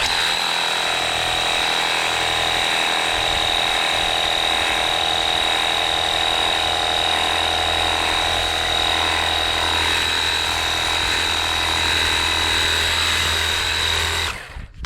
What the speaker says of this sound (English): So even siphoning it from the bucket, it still gets a good amount of power to clean the tiles.